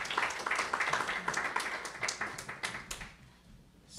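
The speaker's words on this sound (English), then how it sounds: "So everybody give him a round of applause," An audience at a teachers' conference applauding, a dense patter of many hands clapping that thins and fades away in the final second.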